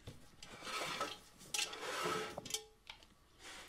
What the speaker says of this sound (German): So, 20 Gramm Butter und Dutchofen wird eingeschmiert.